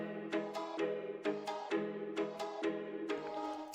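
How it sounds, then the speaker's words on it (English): A bright 80s Fairlight-style plucked synth from Omnisphere, run through effects, plays a repeating melody of quick plucky notes with a washy tail, fairly quiet and heard alone. "So Fairlight 80s plucker is a very nice sound for real"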